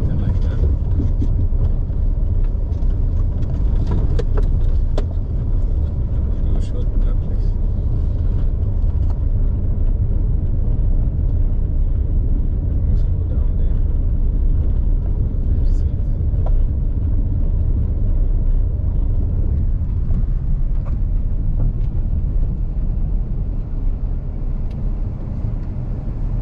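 A car driving around Kafanchan, heard from inside as a constant loud low rumble of engine and road noise with faint ticks and knocks, steady throughout.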